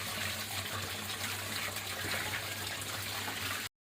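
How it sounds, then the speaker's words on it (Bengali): Gima greens being washed in water in a home kitchen, a steady rushing, splashing wash of water that runs without a break for about four seconds and then stops abruptly. "গিমেটা ভালো করে ধুয়ে নেব।"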